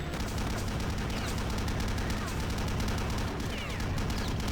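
Rapid machine gun fire from the Heart of Darkness video game, a dense, continuous barrage of shots over a low rumbling backdrop, loud and unbroken throughout.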